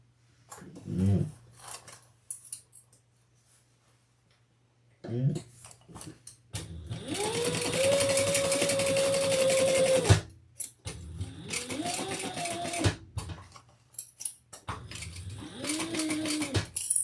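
An electric sewing machine stitches a leather bag in three bursts of steady, close whirring and rapid needle clatter, separated by pauses with light handling noises and a few brief faint sounds.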